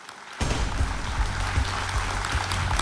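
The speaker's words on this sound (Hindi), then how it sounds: "चाहता हूं कि तालियों के साथ उनका स्वागत किया जाए" The studio audience on KBC season 12 applauds to welcome a contestant, with clapping that starts abruptly after a brief quiet moment and then holds as a dense, steady roar with low thumping underneath.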